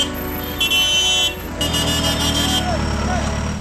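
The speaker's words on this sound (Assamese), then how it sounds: "একাংশ কাণ্ডজ্ঞানহীনে আকৌ বজাইছে হৰ্ণ" Vehicle horns on a highway beside Kaziranga sound two sustained blasts, one after the other, over the loud rumble of road traffic.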